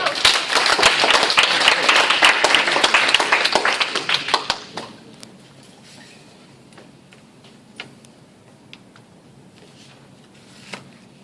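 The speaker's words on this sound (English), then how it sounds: "Give a big round of applause." A Toastmasters student audience welcomes a speaker with applause, crisp overlapping claps for about four seconds before they thin out to a few scattered taps and a near-quiet room.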